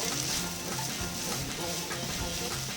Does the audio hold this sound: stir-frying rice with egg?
yes